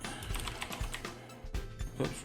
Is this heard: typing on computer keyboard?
yes